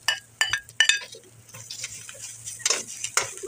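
Grated potato is stirred into a stuffing in a pan, with sharp clinks of a spoon against metal at the start, then softer scraping and stirring taps with a faint low hum beneath, close and without speech.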